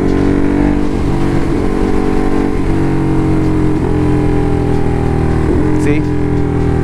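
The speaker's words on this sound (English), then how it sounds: "one of the cool mods that I've done to the bike, to the Hyper, is the quick shifter," A Hyper motorcycle fitted with a quick shifter, its loud engine droning steadily close by while it bumps through the gears, with brief dips in pitch at each shift across the run.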